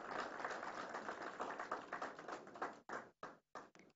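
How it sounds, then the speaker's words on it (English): An audience at an international seminar on tunnel design and construction applauds a guest with dense, close clapping that thins out into a few scattered final claps before stopping. "Can we have a huge round of applause for Mr."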